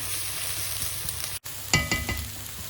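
Garlic fries with green chilies in a pan for an Afghan mantu filling, giving a steady sizzling hiss that cuts out for an instant, then returns with a few quick spatula scrapes and clicks.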